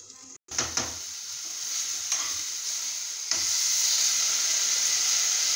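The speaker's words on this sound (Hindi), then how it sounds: "ये भिंडी देखिए काफ़ी भुन भी चुकी है तेल में" Okra (bhindi) frying in hot oil, with a steady bright sizzle that swells louder partway through, broken by a few sharp scrapes of stirring in the pan.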